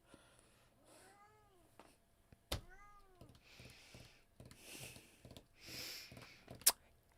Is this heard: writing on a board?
no